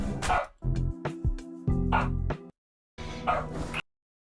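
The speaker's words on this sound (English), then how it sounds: "Can you hear the dog?" A dog barks in several short, close, loud yaps that come in quick succession, followed by a brief pause and another burst, heard over a tonal game soundtrack.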